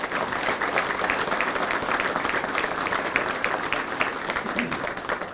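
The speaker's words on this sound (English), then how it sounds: "Please, let's give him a round of applause." Sustained audience applause for a mayor at a Hawthorne Race Course event, a dense even wash of many hands clapping steadily throughout, moderately loud and without talk.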